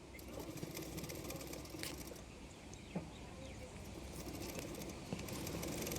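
A sewing machine stitches lace along the neckline of a small baby blouse, a quiet steady whirring that runs continuously and faintly close by, with a few brief clacks and bird calls in the background.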